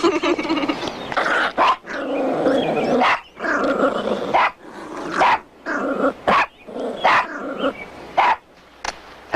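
A small dog growls and barks excitedly in a run of close, loud yaps and snarls broken by short pauses.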